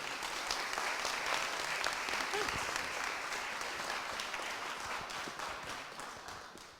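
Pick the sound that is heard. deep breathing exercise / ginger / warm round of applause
warm round of applause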